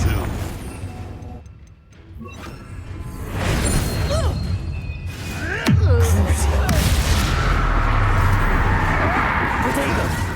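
Confringo fire spell blasts in Hogwarts Legacy, with crackling bursts and a sharp whooshing strike amid loud, dense combat noise, while a voice shouts over the action.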